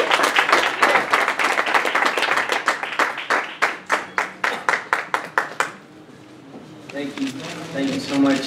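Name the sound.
audience applause for boxer Abner Mares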